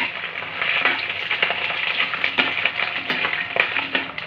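Small pieces of goat mutton fat fry in a little hot oil, giving a steady close sizzle and crackle with scattered pops, without talk.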